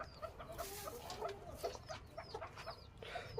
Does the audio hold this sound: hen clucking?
yes